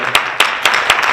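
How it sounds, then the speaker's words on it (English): An audience claps at an information session: a short burst of loud, close claps coming in a quick, uneven rhythm. "we can go ahead and clap"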